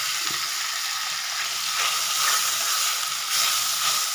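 Curry leaves and green chillies sizzle and fry in hot oil for a chicken gravy, a steady broadband crackle close by that swells slightly midway, with no talking.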